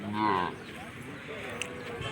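A cow lets out one drawn-out moo at the start at the Palayakottai cattle market, fading into a busy background of livestock-market murmur.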